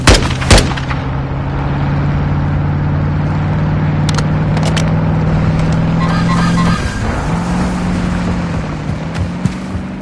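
Gunfire in Warzone: a few sharp, loud shots crack at the start and again mid-clip over a steady, droning vehicle engine that shifts pitch near the end.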